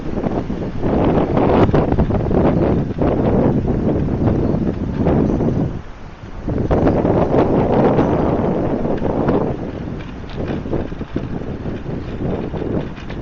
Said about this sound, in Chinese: 大家应该听得到这个呼呼的风声